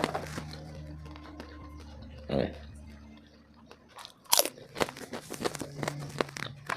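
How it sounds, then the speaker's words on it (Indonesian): Crunchy Lombok glutinous rice snack with palm sugar being bitten, a few close, crisp cracks and crunches followed by chewing, faint overall, with a voice speaking quietly now and then. "Nih, nah begitu dipatahin langsung bunyi kruk."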